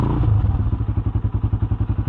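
A Skygo Boss 150 motorcycle engine running at midday without choke, chugging with a steady, rapid, even thumping close to the microphone.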